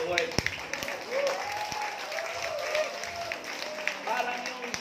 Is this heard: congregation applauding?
yes